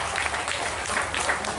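Audience applauding at a Durga Puja Navami cultural program, a dense, steady wash of clapping from many people throughout, with faint voices underneath.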